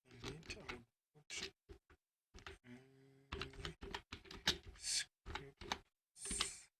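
Typing on a computer keyboard in quick irregular bursts of clicks separated by short pauses, close and fairly quiet, with a voice talking briefly.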